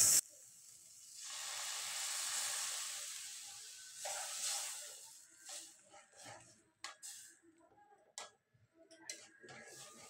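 Water poured into a hot pan of fish egg chutney hisses in a strong, steady, close sizzle for several seconds, then fades into softer bubbling with sporadic pops and clinks.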